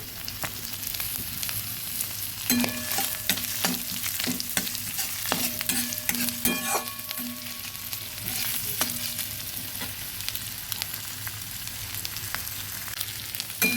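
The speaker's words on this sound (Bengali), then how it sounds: "এবার পেঁয়াজটা ভালো করে ভেজে নেব" Onions fry in oil in a kadai with a steady, crackling sizzle, punctuated by frequent sharp scrapes and clicks of a stirring spoon, close and continuous with no talking.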